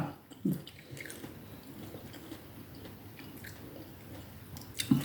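Someone chews chewy pork skin close to the mic, with soft wet squishing and biting sounds repeating quietly over several seconds and a couple of sharper smacks at the start and end.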